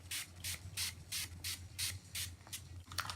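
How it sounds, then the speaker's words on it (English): A Mario Badescu rose water face spray mists in quick bursts, about eight short hissing puffs in a steady rhythm, close and fairly soft, no one speaking. "Then I'm going in with my Mario Badescu Rose Water Spray."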